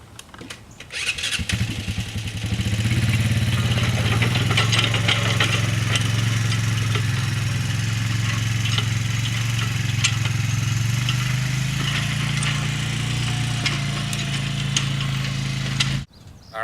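An engine cranks, catches and settles into a steady loud idle that runs on for several seconds before cutting off. The machine is an ATV-type engine pulling a cultipacker over a freshly planted food plot.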